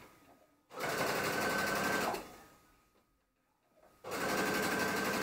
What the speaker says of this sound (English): do a 5mm seam on this